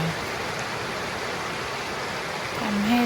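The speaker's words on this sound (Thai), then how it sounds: "เสียงน้ำไหลในลำธาร" Steady broadband rushing of flowing water, continuous and fairly close, like a stream running over rocks, with no other sounds.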